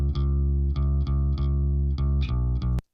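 A clean, dry bass guitar plays a steady run of plucked notes, even and unprocessed, ending abruptly.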